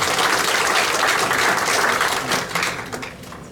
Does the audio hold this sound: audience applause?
yes